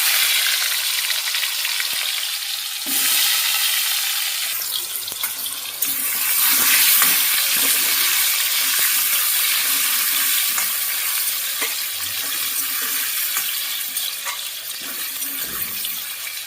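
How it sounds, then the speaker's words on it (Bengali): Potatoes deep-frying in hot oil, a dense continuous hissing bubble that fills the whole stretch at steady loudness, with occasional faint knocks underneath. "তো আমি এখানে আলুটাকে কিন্তু ভেজে নিচ্ছি।"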